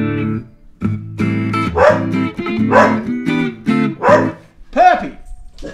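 A puppy barks repeatedly in short, loud bursts close by, a rapid run of yaps with brief gaps, ending in a higher whining yelp.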